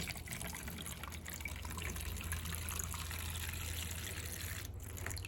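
Water pours steadily into a pot holding avocado seeds propped on sticks, a continuous close trickle and splash with a low background hum and no voices.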